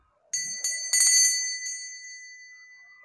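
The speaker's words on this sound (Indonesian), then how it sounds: "dengan ditandai dengan lonceng berbunyi" A small bell rings out against silence to mark the start of a three-card trick, struck several times in quick succession, its bright metallic tones lingering and fading slowly afterward.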